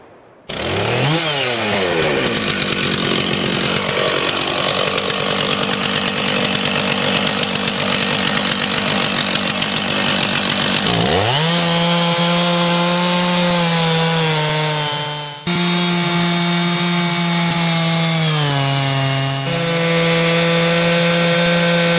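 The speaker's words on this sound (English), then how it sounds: "Never operate a chainsaw without good hearing protection." A chainsaw cuts slices from a tree trunk, running loud and near at a steady high whine, then dropping and rising in pitch as it bogs into the wood and revs again.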